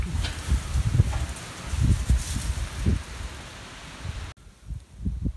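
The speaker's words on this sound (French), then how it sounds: "le vent se lève surtout" Wind gusting outdoors at nightfall on Mont Gros de Roquebrune, rushing and buffeting the microphone in low irregular surges, steady and fairly loud, briefly dropping out near the end before swelling again.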